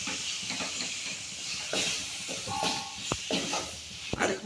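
Prawns hit a hot pan for a prawn roast and sizzle with a steady hiss, broken by a couple of sharp clicks, close and moderately quiet.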